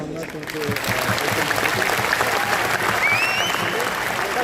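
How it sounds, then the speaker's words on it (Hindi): Audience clapping at a Connected Pakistan conference on its second day, a dense, sustained wash of applause from a large crowd with a voice speaking over it. "एक दफा फिर भरपूर तालियां"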